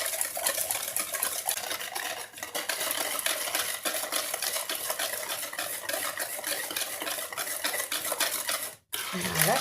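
Spiced gingerbread-style cake batter is mixed in a bowl, a continuous scraping and whisking with small clinks of utensil on the bowl, close and fairly even, briefly stopping near the end.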